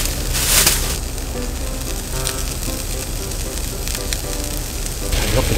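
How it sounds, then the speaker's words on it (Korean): Mozzarella cheese sizzling in a pan at an oceanside campsite, a steady close hiss and crackle of frying running throughout with a few faint clinks, no talking. "모짜렐라 치즈를 뿌려줍니다."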